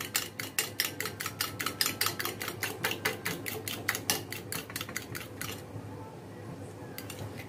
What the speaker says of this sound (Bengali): এটা এভাবে একটু ফিটিয়ে নিচ্ছি